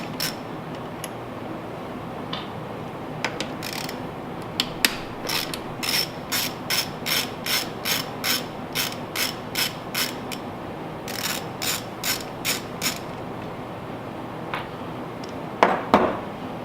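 A ratchet turns an 8mm socket on a Honda EU2000 generator with a rough idle, giving close, crisp clicking in quick rhythmic bursts, pausing, then resuming at a steady pace.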